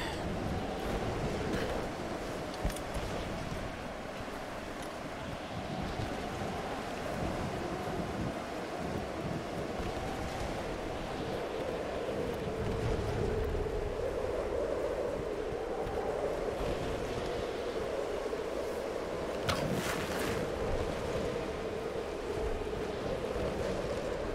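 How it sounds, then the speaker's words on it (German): Steady wind and rolling sea waves fill a Tomb Raider scene with a continuous low roar and surf wash, moderately quiet and unbroken for the whole stretch. "Stimmt ja, der Wind war auch da."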